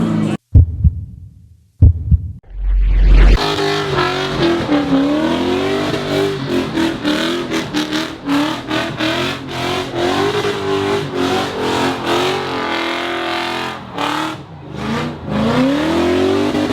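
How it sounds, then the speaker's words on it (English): A Ford Mustang engine at an Atlanta street takeover, loud and close: after a few sharp bursts it roars into sustained revving, rising and falling in pitch, cutting out briefly in choppy breaks, then holding a heavy drone. "I don't mind the Mustangs that shoot 10-foot flames."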